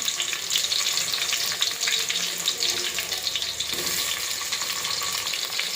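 Chopped onions fry in hot oil with cloves for vegetable rice, giving a continuous close sizzle with stirring scrapes throughout.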